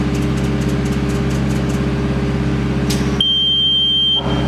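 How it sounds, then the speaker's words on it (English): Steady electronic beep from an Amada FBDIII-1253NT CNC press brake after its relay check, a single sustained tone lasting about a second over a constant machine hum. "That beep means you're okay."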